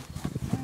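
Horse hooves clip-clopping near horse farms, a quick run of close, dull thuds in an uneven rhythm, with a voice faintly underneath.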